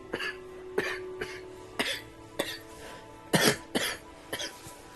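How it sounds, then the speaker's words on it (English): A person coughs repeatedly, about eight short, sharp, close coughs spaced irregularly, some with a squeaky, wheezy edge. "Sound like a goddamn squeak toy when I cough."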